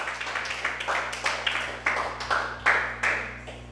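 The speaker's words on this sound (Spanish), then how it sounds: "Denle un aplauso, si lo aplaudí, apláudale." A church congregation claps in scattered bursts at a sermon, with individual hand claps heard fairly close, irregular and uneven rather than steady applause.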